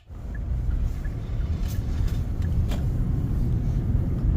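A Hyundai Santa Fe out on a test drive after a brake replacement, its steady low road rumble and engine drone continuous and fairly loud from inside the cabin, with a few faint ticks and no talking.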